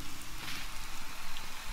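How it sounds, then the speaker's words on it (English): Steady rain falling in Fallout 4, a dense, even hiss of drops pattering on surfaces, continuous and fairly close with no voices. "It rains inside too, but that's really cool."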